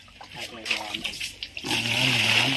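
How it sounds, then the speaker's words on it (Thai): Pickled cabbage is rinsed under running water. A steady gush of pouring water starts partway through and keeps going, and someone talks before it begins. "ต่อไปเราก็ทำการ ล้างน้ำครับล้างน้ำ"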